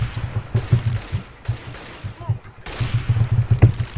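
AWP sniper rifle fire and other gunfire in a Counter-Strike GO match, with sharp repeated shots in uneven bursts over a busy game background. No one speaks.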